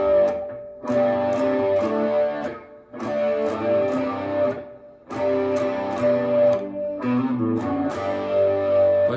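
Electric guitar strumming open cowboy-position chords through distortion or overdrive, thick sustained chords struck in several separate phrases with brief gaps between them.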